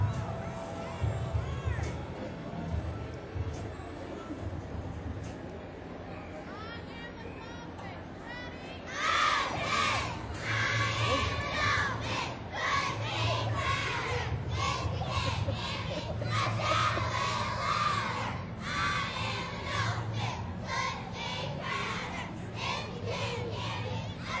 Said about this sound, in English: I think they're going to treat us to a cheer here.